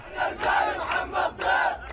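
Crowds in the Jenin refugee camp in the West Bank chant and shout in celebration after a Hamas attack, several rhythmic bursts of massed voices in quick succession, moderately distant.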